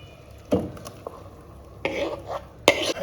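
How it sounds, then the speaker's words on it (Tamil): Mango pieces drop into boiling sugar syrup in a pot and get stirred, with a few thuds and scraping bursts of utensil against metal over a low bubbling background. "இப்போ மாம்பழத்தை போட்டுடலாம்"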